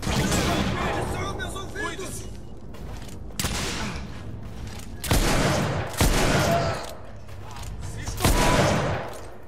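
Powerful weapons firing in the video game The Order: loud, sharp shots in bursts, with several heavy blasts standing out near the end, under a voice.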